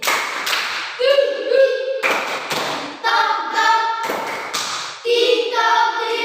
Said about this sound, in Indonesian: Tepuk terima kasih.